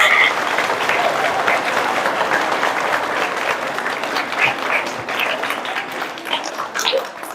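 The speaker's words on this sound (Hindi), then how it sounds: "फिर से ताली बजाओ अपने आप के लिए" Children at a retreat clap for themselves, a sustained patter of many hands that starts full and slowly thins and becomes more uneven toward the end.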